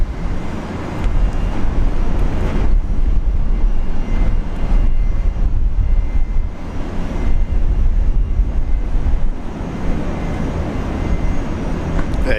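A Fokker airliner at Brisbane International Airport gives a loud, steady engine roar that runs unbroken for the whole stretch, close and alone with no talking.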